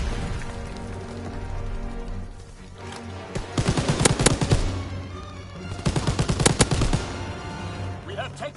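Loud, dense bursts of rapid gunfire in Call of Duty WW2, rattling automatic fire that rises in two heavy volleys, with no talk over it.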